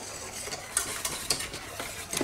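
A whisk stirs cornstarch into cold liquid cream in a bowl before heating, with a run of close, light clinks and scrapes against a soft, even background and no speech.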